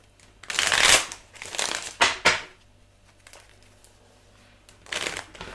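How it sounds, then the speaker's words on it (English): Quick papery riffles and snaps of playing cards being shuffled, several short bursts separated by pauses, close up. "If I can shuffle these cards. I'm gonna shuffle."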